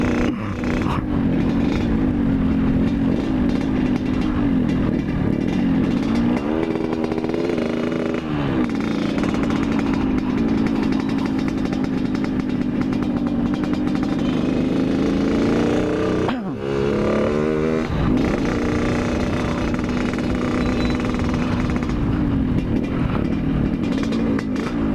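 RX-King and KLX motorcycles ride hard together, their engines roaring loud and close without a break, pitch rising and falling as they accelerate and ease off.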